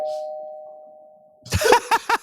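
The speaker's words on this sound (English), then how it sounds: "Hey, get the doorbell while you at it." A doorbell chime rings once in a house, a sustained tone fading out, followed by a short burst of indoor sounds and two further ding-like hits close together.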